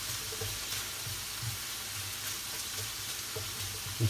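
Mushrooms sizzle and fry quietly in a pan, a soft continuous crackle with faint clinks, no voices.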